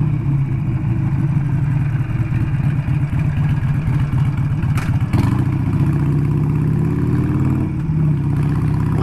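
A motorcycle engine runs steadily on a rough dirt stretch of the Estrada Real, its low mechanical drone loud and continuous with a slight shift in tone midway and wind noise over it.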